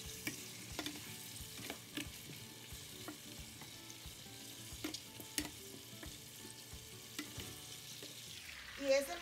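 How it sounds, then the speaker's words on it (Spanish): Fried chicken being stirred back into a sizzling frying pan for a chicken stew; soft, steady frying hiss with repeated scraping stirs throughout, fairly quiet and close. "Ahora vamos a regresar el pollo frito al sartén."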